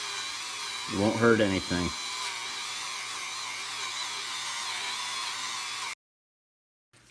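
Rotary wheel on a power tool grinding curb rash off a car wheel, a steady close whine throughout, with someone briefly talking over it near the start before it cuts off.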